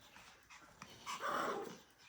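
Pomeranian puppies tussle near their mother, making soft panting, whimpering and brief growly noises, close but faint, swelling briefly in the middle.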